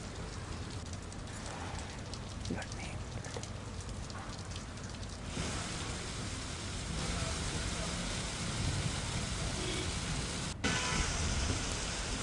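Heavy rain with gusting wind pours down steadily in Surat, Gujarat, a dense, continuous wash of drops on surfaces that grows slightly louder toward the end, with a brief sharper knock near the close.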